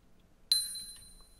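A single bright, bell-like chime for a coin pickup in an Unreal Engine game, a short clean ding that rings briefly and fades, heard alone.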